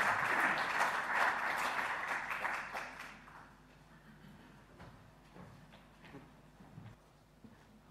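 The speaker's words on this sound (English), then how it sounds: "So please give a warm round of applause to Darren Smith." An audience at a triathlon science conference claps in a full round of applause that fades after a few seconds, leaving scattered claps and quiet room noise.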